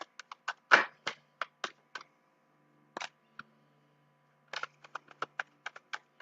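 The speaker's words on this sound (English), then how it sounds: "I just want to give the cards a good shuffle." Quick bursts of riffling cards, one long flutter then a string of short snaps and taps, with a pause in the middle before more rapid shuffling.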